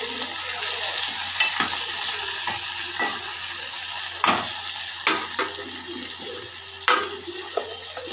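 Onions and tomatoes fry in a pan for khichdi, giving a steady sizzle broken by several sharp clinks and scrapes of stirring, with faint splashy water sounds mixed in.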